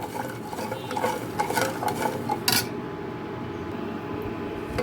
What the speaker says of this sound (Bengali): এখন চিনিটা আর দুধটাকে খুব ভালো করে একটু মিশিয়ে নেব